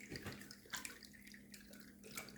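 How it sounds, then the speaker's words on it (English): Running water from a tap splashes onto a face before shaving, a steady close wash of water with small splashy surges and no talking. "Let's get some water on the face."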